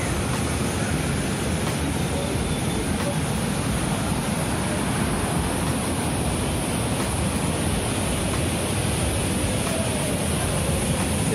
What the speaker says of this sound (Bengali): দেখুন এই যে ফোয়ারার পানিগুলো নামতেছে